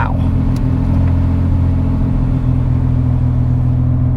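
A 1988 Pontiac Fiero GT with a 5-speed, kept as a parts car, runs with a loud, steady engine drone and a low rumble throughout, close up and without talk.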